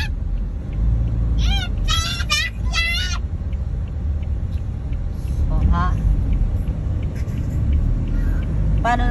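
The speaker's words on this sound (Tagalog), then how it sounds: "nakakatuwa yung ano, tricycle na ambulansya, oh." A tricycle converted into an ambulance passes on a Philippine street amid steady traffic rumble, with a high warbling siren or horn bursting in and out and people talking nearby.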